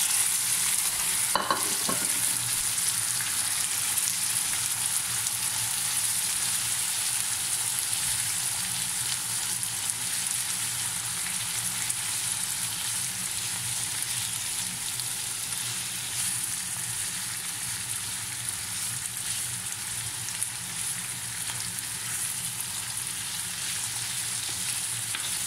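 Minced meat fries with browned onions in a pan, a constant close hiss of sizzling oil that holds evenly throughout, alone with no speech.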